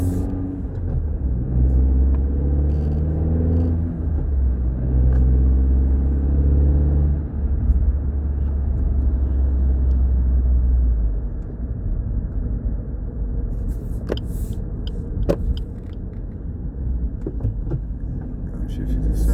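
Suzuki Swift ZC33S with an HKS Hi-Power Spec-L 2 exhaust and 35mm lowering, driven through downshifts to third, second and first for a roundabout; a steady loud engine drone with rising rev steps runs throughout, with a voice talking over it.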